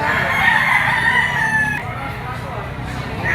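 A yellow-legged Kelso rooster crows once, a loud drawn-out call that cuts off abruptly, heard close against steady background noise.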